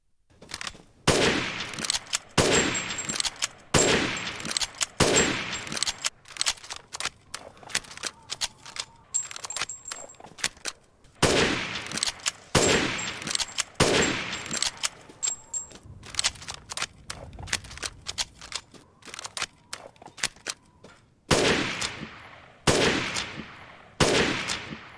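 A fully upgraded F2 rifle fires in Resident Evil Village, loud sharp reports coming singly and in quick clusters with short quiet gaps, repeated many times with clicking handling sounds between shots.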